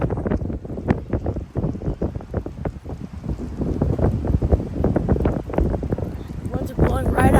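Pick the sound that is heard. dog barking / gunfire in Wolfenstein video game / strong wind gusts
strong wind gusts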